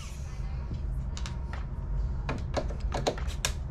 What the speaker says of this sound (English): Now we're gonna remove these screws.